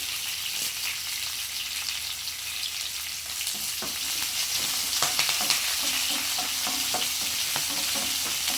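Shallots and curry leaves frying in hot oil for a raw banana fry, a dense steady sizzle close by with scattered crackles and stirring clatter growing busier in the second half, no voices.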